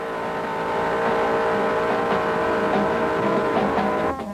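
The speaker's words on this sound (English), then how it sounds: "Our driver whipped it through at about 50 miles an hour" A 1969 Plymouth GTX with a 440 engine runs steadily at about 50 mph, its loud, sustained engine roar holding close and even before dropping away at the end, with no voices.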